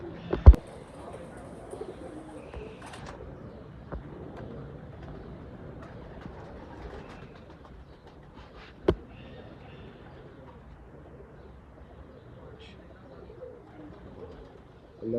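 Pigeons coo softly in a quiet loft, faint low murmuring calls spread through the stretch, broken by a few sharp knocks and a brief rustle, with no speech.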